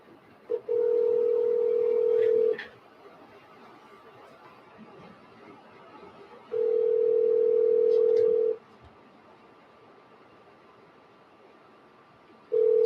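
Phone call ringing on a handset: long steady ringback tones repeating every few seconds with silence between, plus faint low background murmur.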